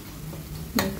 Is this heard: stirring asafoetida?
yes